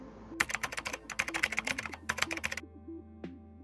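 Quick bursts of typing on a computer keyboard, crisp close clicks in uneven clusters with a short pause before a final single keystroke.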